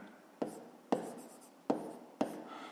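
Pen strokes scratch on paper during a fifth-grade maths lesson on the area of a square, four quick separate bursts at an even pace, near and clear, with no speech.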